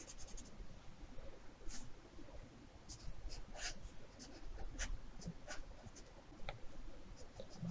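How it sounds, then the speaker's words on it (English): Pencil sketching creatures on paper, soft continuous scratching strokes with scattered sharper taps and flicks, close and fairly quiet. "you're gonna just kind of do some drawings now, or some sketches like this"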